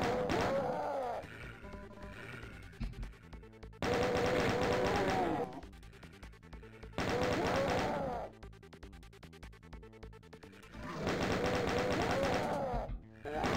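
Chain gun fire in the shooter Doom II: Requiem, loud rapid bursts of a few seconds each, alternating with quieter stretches of game sound, no talking.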